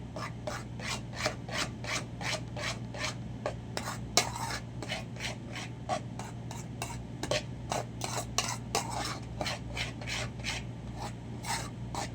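A utensil scrapes and stirs food around in a metal cooking pot, used as a mixing bowl, in a steady rhythm of soft rasping strokes, close up, with a low hum underneath and no talk.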